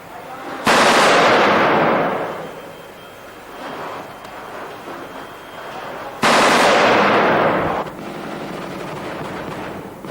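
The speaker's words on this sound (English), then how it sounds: "There of course is no substitute for a machine gun while learning to use it against ground targets" Machine gun bursts during army live-fire training against ground targets, two long loud rattling bursts of rapid fire, each dropping off into echoing rumble.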